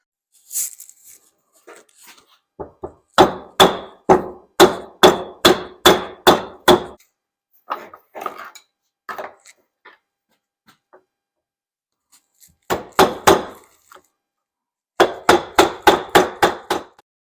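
Repeated hammer blows drive out the front axle dust seal on a Ford Excursion truck, coming in fast, loud bursts of sharp metallic strikes with short pauses between volleys and no talk.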